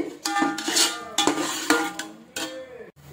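Ginger garlic paste and slit green chillies being mixed in a pan for dum aloo biryani, with several sharp metallic clinks and scrapes of a spoon against the pan in quick bursts.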